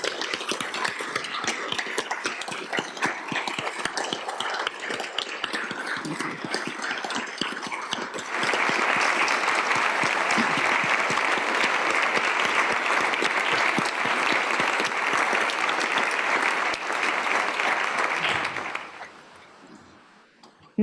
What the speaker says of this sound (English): Please give them a round of applause and thank them for keeping us safe.